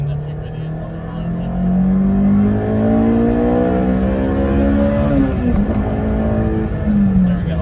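Honda S2000 with a JDM F20C engine and AP2 transmission revs hard under acceleration, its rising pitch climbing steadily through the gears with a brief shift near the end, loud and continuous from inside the car.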